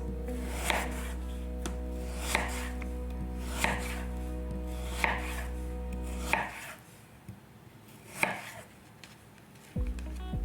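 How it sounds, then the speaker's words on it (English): Regular, crisp knife strokes slicing chayote into thin slices on a board, about six evenly spaced cuts over a low steady hum, then a quieter pause broken by a couple more chops. "So I'm just gonna cut it like a very thin slice."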